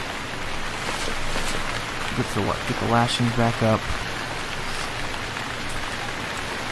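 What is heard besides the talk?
rain falling in the video game Stranded Deep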